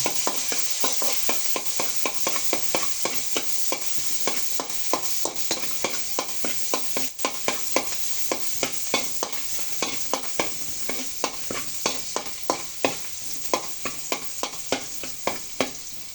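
Garlic sizzles steadily in a hot pan for Filipino ginisang sayote with sardines, a dense frying hiss punctuated by a long run of rhythmic scraping stirs and clicks, close and fairly loud, with no voices.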